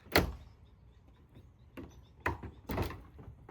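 Doors are fitted and opened during a home remodel: a series of quiet knocks, wooden thumps and sliding clacks spaced irregularly, with no talking.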